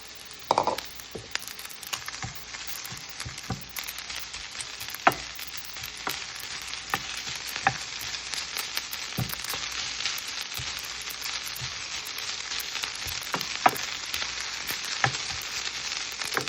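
Leftover rice stir-frying in a hot pan for fried rice: a continuous dense sizzle with repeated sharp scrapes and taps of the utensil against the pan, close and steady throughout, no voices.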